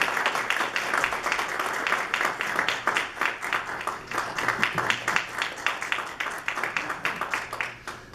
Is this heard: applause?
yes